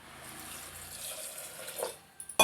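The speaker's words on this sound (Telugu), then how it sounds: "ఇప్పుడు ఇందులో కొన్ని వాటర్ పోసుకోవాలండి." Water pours into a pressure cooker holding sweet corn kernels, a steady close splashing stream that builds and ends in a few louder sloshes and a clank.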